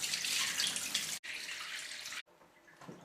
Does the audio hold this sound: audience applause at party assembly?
no